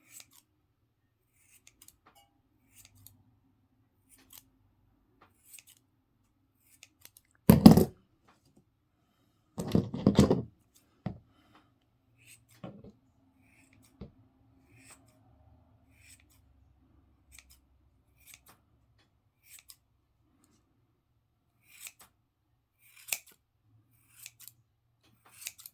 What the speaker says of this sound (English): I think we need to sharpen our scissors.